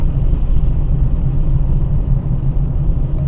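A taxi car driving home through Kyiv, heard from inside as a loud, steady low rumble of engine and road noise with no breaks, close and constant throughout.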